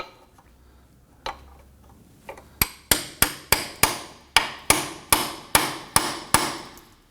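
A chisel tip on a Nissan Murano control arm is hammered into the ball joint area with about a dozen sharp metallic strikes. The blows land in a fairly steady rhythm, close and loud, and are preceded by a few lighter taps.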